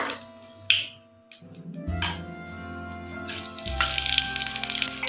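Dried red chillies, bay leaves and whole garam masala hit hot oil for a jackfruit curry, with a few light clinks early on, then a loud, steady sizzle that swells near the end.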